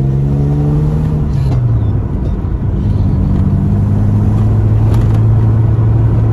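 A turbocharged EF Ford Falcon on a test drive along a private road, its engine note loud and close, dipping then rising as it accelerates, with a steady rumble throughout.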